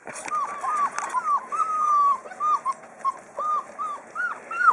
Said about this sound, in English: I think puppies are jealous that mama's eating.